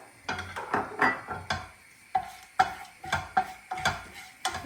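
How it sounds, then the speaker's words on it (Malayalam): Cinnamon, cloves and cardamom dropped into hot oil in a pan, giving soft sizzling and crackling with repeated stirring scrapes at an uneven rhythm, alone without talk. "വേറെ പാനിലേക്ക് എണ്ണ ചൂടായി കഴിയുമ്പം പട്ട ഗ്രാമ്പു ഏലക്ക ഇതിട്ട് കൊടുക്കാം"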